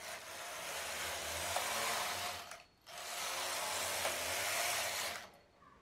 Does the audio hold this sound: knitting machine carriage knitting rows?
yes